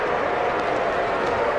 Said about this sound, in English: Crowd like it.